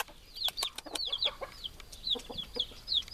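Chickens cluck and chirp steadily in a henhouse with a laying nest, several birds calling in quick overlapping bursts at close range over a faint background.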